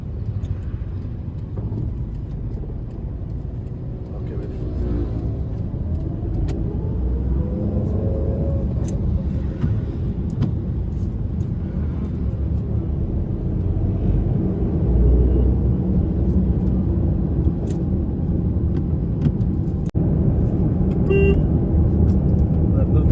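A car pulling away on a road driving test, a steady low engine rumble that builds gradually over the whole stretch, with a passing horn toot and someone talking throughout close by.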